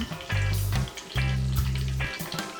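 Oil sizzles and crackles steadily as plantains fry in a pan, with two louder bursts of bubbling and a constant low hum beneath.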